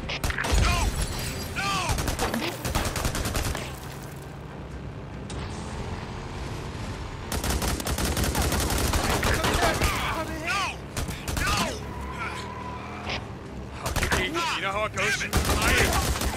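Heavy gunfire in the open-world zombie game Days Gone, with dense bursts of automatic fire and single shots in loud, repeated volleys, partly broken by quieter gaps and mixed with game effects under shouting voices.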